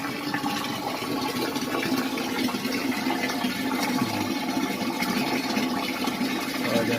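Water from a 180 W solar jet pump pours steadily and loudly from a tap, a constant close rushing splash that keeps going without a break.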